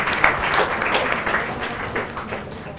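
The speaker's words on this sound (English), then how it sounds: "A good round of applause to him." An audience at a TEDx event applauds steadily for a few seconds in a moderate wash of clapping that slowly fades.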